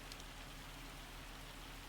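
Rain falls in Farming Simulator 25 as a faint, even hiss of drops across a surface, steady and soft with no other clear sounds.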